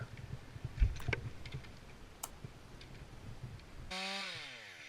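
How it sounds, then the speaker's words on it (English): A battery chainsaw cuts off the tip of a branch from a dead Douglas fir, sounding as a quiet, uneven stretch of buzzing and woody crackle, then a louder motor whine that swells and falls near the end. "Cut off the tip of that Doug fir branch."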